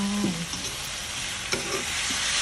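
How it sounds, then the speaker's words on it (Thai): Crispy pork and cumin leaves stir-fried in a wok, with a steady dense sizzle throughout, brief scraping stir strokes near the start and around the middle, close and alone. "ผัดไปจนกว่าใบมันจะเหนียวแด"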